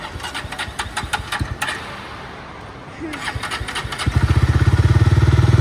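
A motorcycle engine starts after a few cranking attempts, then settles into a loud, steady, pulsing idle close by, with people talking over the opening seconds.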